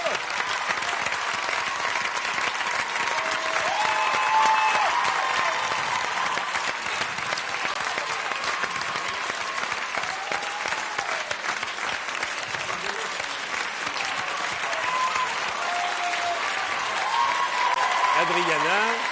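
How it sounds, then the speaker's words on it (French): Sustained applause from a television studio audience, dense clapping that continues throughout at a steady, fairly loud level, with voices faintly mixed in. "Eh oui, Adriana, que je vous demande d'applaudir."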